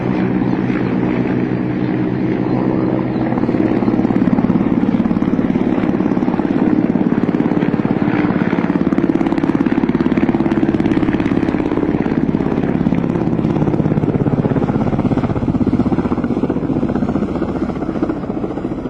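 A Russian army Ka-50 Shark attack helicopter passes overhead, its loud, steady rotor and turbine roar holding for the whole stretch with no break.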